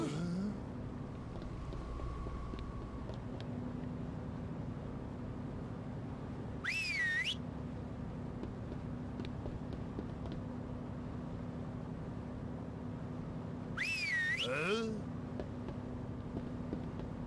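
Two short melodic whistles, one around the middle and one near the end, rise and fall over steady ambient background noise while a player explores in a zombie survival video game.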